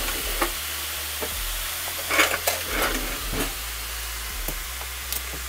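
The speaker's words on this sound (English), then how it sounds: "So I'll cook this until all the pink is gone." Pork tenderloin sizzles and fries in about half a stick of Kerrygold butter in a pan, a steady close hiss with occasional light stirring scrapes, and no talking.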